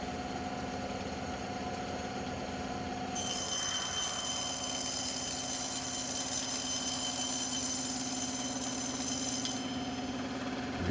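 Band saw running with a steady motor hum while cutting EVA foam; a high, hissing whine rises when the blade enters the foam and holds for several seconds before dropping back to the idle drone.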